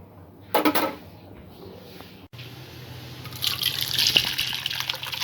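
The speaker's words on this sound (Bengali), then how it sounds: "সব উপকরণগুলো আরেকটু ভালো করে মিক্স করে নিয়ে এটা পটে আমি ঢেলে নেব।" Chicken corn soup mixture is poured into a pot: a brief splash and clink, a few drips, then a rising, steady liquid pour and splashing near the end, close and fairly quiet.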